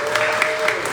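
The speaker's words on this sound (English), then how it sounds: "Round of applause for the most beautiful bunch in Greenville." An audience at an evening town hall in Greenville claps steadily, a sustained wash of applause with voices mixed in.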